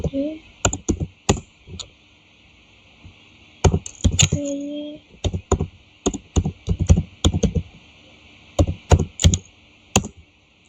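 Keyboard shortcuts typed on a computer keyboard: sharp, close clicks in quick clusters separated by short pauses, with brief speech in between.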